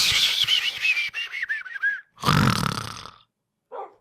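A person imitates snoring while their character sleeps in Minecraft, with several close, breathy voiced snorts and whistly wheezes that end in a long rough exhale and a short final grunt.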